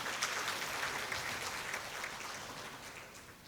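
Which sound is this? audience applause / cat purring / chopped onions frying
audience applause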